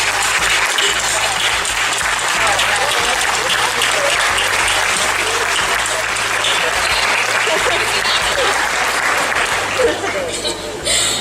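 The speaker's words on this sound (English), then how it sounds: "please stand and join us in a round of applause" A large audience at a school graduation claps loudly and continuously, a dense, sustained round of applause that thins slightly near the end.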